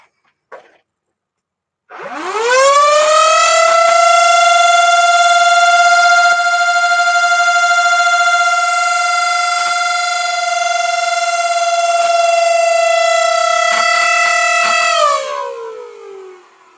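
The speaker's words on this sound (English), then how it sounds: "We're simply now going to rev it until something really, really interesting happens." Modded Nerf AR-L blaster motors running on high-power batteries spin up into a loud, piercing whine that climbs quickly, holds steady for about thirteen seconds, then winds down.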